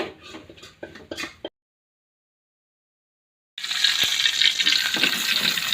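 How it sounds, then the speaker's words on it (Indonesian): Shallots sauté with bay leaves and lemongrass in a pan: a few soft clatters, a silent gap, then a steady bright sizzle that carries on to the end. "Kita tumis bawang dulu sedikit, daun salam sama serai"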